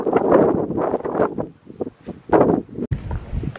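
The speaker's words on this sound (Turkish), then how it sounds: "Çok rüzgarlı ve aşırı serin bir yer." Strong, cold wind buffeting the microphone outdoors in the Kotor area of Montenegro, heavy low rumbling gusts that surge and drop over a few seconds, with brief bits of a voice.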